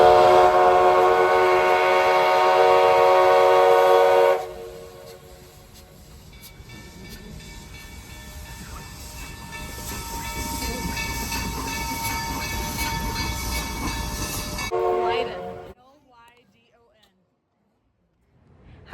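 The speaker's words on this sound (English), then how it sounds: "Here comes the train." The 1880 Train, a heritage train in South Dakota, arrives with a loud, close whistle blast before settling into a softer steady hiss and rumble of rolling cars, then a brief burst before quiet.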